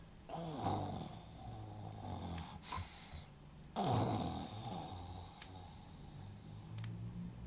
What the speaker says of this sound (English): He dozed off fast, and soon enough I heard his snoring.